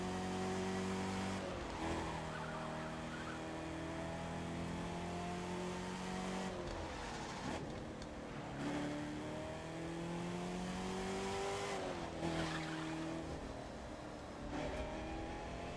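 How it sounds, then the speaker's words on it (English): A racing car engine in The Crew 2 revs hard and climbs through the gears, pausing briefly at each shift, loud and close throughout. "the car sounds good"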